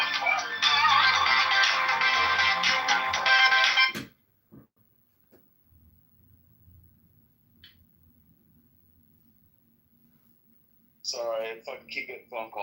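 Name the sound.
phone ringtone from incoming call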